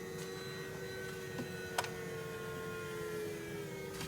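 BMW E90 electric coolant water pump running while the cooling system is bled, a faint steady electrical hum with a constant whine, alone with a couple of small ticks.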